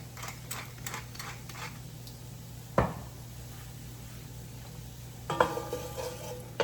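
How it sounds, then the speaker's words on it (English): Mushrooms frying in a pan for linguine are stirred, with light sizzling under scattered scrapes and clinks of a utensil against the pan, a sharper knock near the middle and a burst of stirring near the end, close and without talking. "Give it a little stir."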